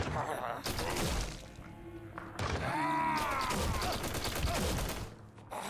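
Assault rifle bursts in the shooter Forgive Me Father 2, loud rapid shots with crashing impacts, mixed with game effects and a voice talking over them.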